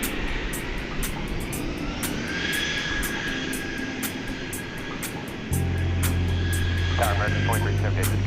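An American Airlines jet rolls for takeoff on DFW runway 18 right, a steady distant engine roar with a whining tone that swells louder partway through, amid faint clicks.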